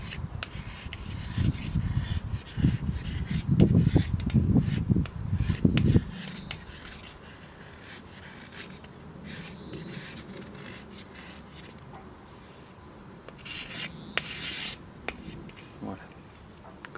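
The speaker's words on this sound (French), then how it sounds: "pour que la lame soit efficace, nous allons devoir affiner cette partie de manière à avoir un angle assez aigu" A bamboo fire saw blade has its edge thinned to a sharp angle with dense scraping and rasping strokes for about six seconds, then quieter scattered scrapes and light taps, with a voice speaking softly at times.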